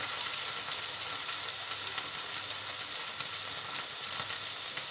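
Chicken breast frying in a pan over low heat, a steady, fine sizzle that crackles continuously and evenly at close range, with no voices over it.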